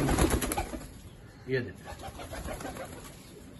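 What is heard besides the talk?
golden pigeons cooing in cages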